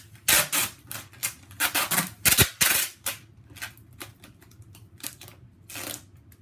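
Packing tape pulled and applied while wrapping fragile items for shipping: a series of sharp, crackling rips and snaps in irregular bursts, close and fairly loud, with quieter rustling between.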